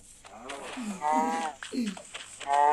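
A cow in the video game Minecraft moos in low, drawn-out game calls, repeated a few times close up, with someone talking and laughing over them.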